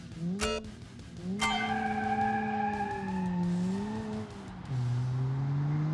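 In BeamNG.Drive, an inline-four turbo hatchback with McPherson strut front suspension is driven hard. Its engine drones and climbs through gear changes, with tire squeal and skidding at a moderate distance.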